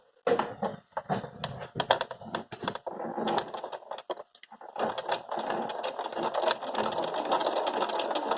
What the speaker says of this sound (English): I'm wanting to keep in mind of where your needle is going to be sewing down, and then just keep it steady.